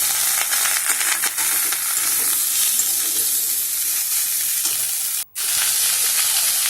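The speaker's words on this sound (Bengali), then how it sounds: "ভালো করে ফোড়ন আর তেলের সাথে ভালো করে ফুলকপি আর আলুটাকে এরকম করে নেড়ে চেড়ে মিশিয়ে নিতে হবে" Cauliflower and potato stir-fried in oil with tempering spices: a loud, continuous sizzle and hiss with scraping stirs throughout, briefly cut off near the end before resuming.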